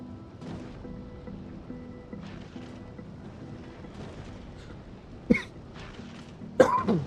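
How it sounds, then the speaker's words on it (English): A person coughs twice in quick succession near the end, loud and close over a quiet background hum. "sorry for the cough."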